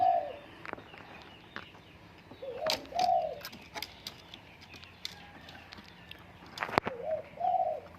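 Soft, low spotted dove coos repeat in short phrases outdoors, with scattered chirps from other birds and faint background noise.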